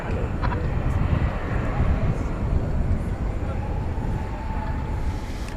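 An American Airlines Boeing 737-800 jet rumbles steadily at night at Dallas Fort Worth airport, a broad, sustained engine roar at moderate distance with no speech over it.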